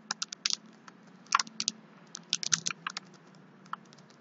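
Quick bursts of typing on a computer keyboard while searching for folder options on a PC, the keystrokes coming in short irregular clusters, close and clear, with no voice.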